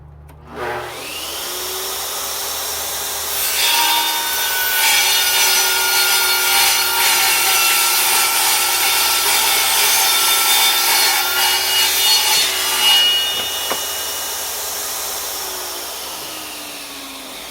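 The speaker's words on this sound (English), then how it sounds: "Always want to be safe around these table saws." Table saw ripping through a wood board in a workshop: the motor whines up, then a loud, steady cut runs for about nine seconds before the blade spins down alone.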